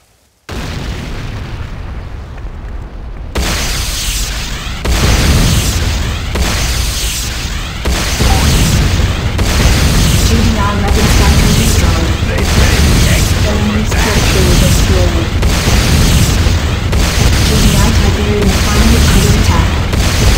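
A Nod structure is destroyed in the video game Command & Conquer Renegade, producing a loud, close barrage of heavy booms and bursts in rapid succession over a continuous rumbling roar.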